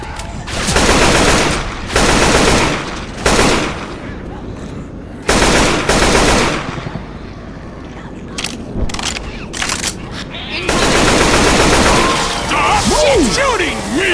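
Repeated bursts of gunfire in the zombie shooter Left 4 Dead 2 at a construction site, loud automatic volleys broken by short pauses, with speech and game noise between and over the shots.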